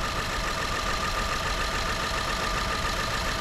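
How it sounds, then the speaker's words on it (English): A 2016 Ford Explorer Sport's four-wheel-drive EcoBoost engine idles steadily and smoothly, a constant low rumble with a faint whine, no voices over it. "That engine is sounding smooth as could be"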